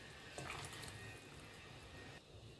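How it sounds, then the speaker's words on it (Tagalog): Water pours into a cooking pot of turkey neck tinola with moringa and celery leaves, a steady close splash and trickle that swells briefly then settles, with no talk. "magdagdag tayo ng tubig kasi kinulang."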